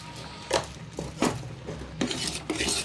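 Salt and sugar stirred into paneer gravy in a pan, a spoon scraping and clinking against the metal pan in about four distinct strokes over a soft sizzle, close and fairly loud.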